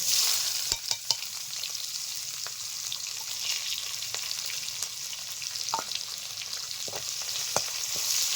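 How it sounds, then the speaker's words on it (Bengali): Onion frying in hot oil with whole cumin, bay leaves and a dried red chili, a continuous bright sizzle with scattered spoon taps and scrapes against the pan. "পেঁয়াজটা হালকা করে ভেজে নেবো"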